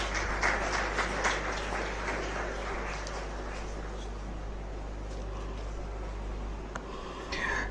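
Audience applause for Maulana Syed Asif Nadvi at a Muslim education council gathering, a steady wash of many hands clapping at moderate distance, continuing throughout with a slight rise near the end.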